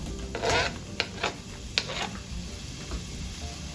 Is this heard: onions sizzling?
yes